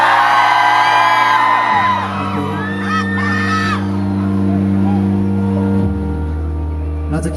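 A large concert crowd at a music festival whoops and yells continuously, with scattered shouts over a steady low rumble of sustained music.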